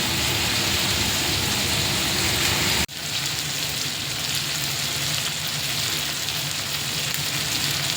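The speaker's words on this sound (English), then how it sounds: "Then cook the fish until both sides are beautifully golden and crispy." Bangda fish (mackerel) frying in a hot pan gives a steady, close crackling sizzle throughout, briefly cut by a sharp break before the spitting hiss resumes.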